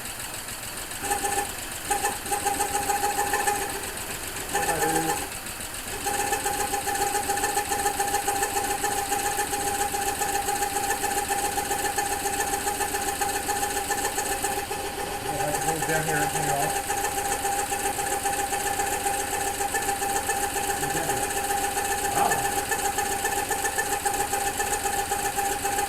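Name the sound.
Subaru Justy engine idling rough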